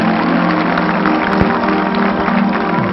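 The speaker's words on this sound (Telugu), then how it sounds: "గట్టిగా చప్పట్లు కొట్టండి" An audience clapping loudly, a dense, steady patter of many hands throughout, with a sharp low thump partway through.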